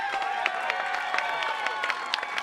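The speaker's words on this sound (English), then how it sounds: "Please give a big round of applause for B." Audience at a Wisconsin labor cookout applauds a labor speaker with steady, dense clapping and some crowd noise, sustained at moderate distance throughout.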